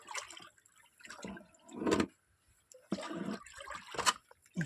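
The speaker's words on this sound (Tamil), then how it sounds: "எல்லா மருந்தும் ஒட்டுக்க ஊற்றி கலக்குறாங்க ஃப்ரெண்ட்ஸ்" Liquid medicine poured and stirred together in a container, heard as several irregular splashing, sloshing bursts with short quiet gaps between them.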